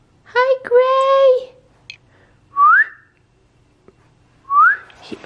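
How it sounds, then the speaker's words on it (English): A person whistles to a puppy in short, rising tonal calls, first a sustained melodic phrase, then two brief upward-sliding whistles spaced apart, close and clear against a quiet room. "For some reason, he gets so confused when I whistle."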